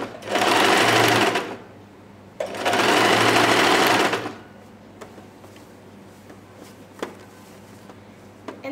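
A sewing machine stitching a kurti seam runs in two steady whirring bursts of about a second and a half each. Quiet pauses between them hold faint clicks and taps.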